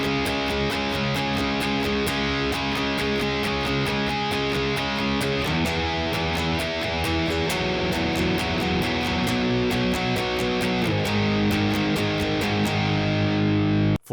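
Heavily distorted electric guitar chugs through a rock riff, a steady strummed rhythm of palm-muted and ringing power chords, loud and continuous with no voices.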